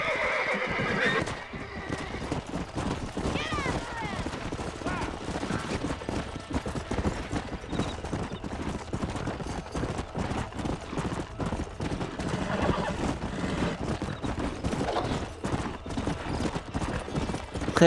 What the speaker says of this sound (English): Hey, the stallion's getting away! Chase him down and bring him back!